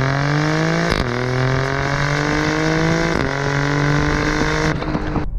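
Alfa Romeo Stelvio Quadrifoglio turbocharged engine revving loudly and up close, its pitch climbing steadily through the gears with brief dips at each shift, a rich harmonic roar throughout.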